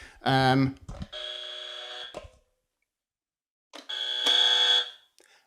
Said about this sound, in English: as you would expect from buying a set of 2 buzzers, you would expect them to make 2 different sounds